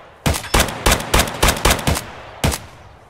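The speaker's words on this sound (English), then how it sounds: "I shoot once, I hit once." Gunfire in the Escape from Tarkov video game on the Reserve map: six sharp shots at an even, quick pace, then a short pause and one more, each loud and close with a brief ringing tail.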